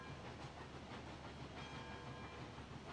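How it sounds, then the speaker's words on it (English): Coal-powered steam locomotive in a video game running through a yard, with a steady dense rumble and a continuous rhythmic chuffing and rolling rail clatter throughout, close and fairly loud, no voices. "the chuffing sounds are amazing"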